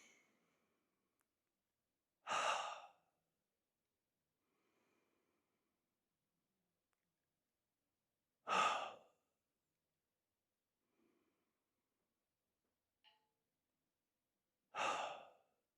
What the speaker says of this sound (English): you breathe in, and then when you breathe out, you breathe out through your mouth